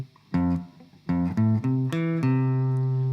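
Electric guitar plays the alternating second part of the guitar riff, resolving back to C: a few crisp plucked notes in a short bouncy pattern, ending on a ringing held note, close and clear with no talk.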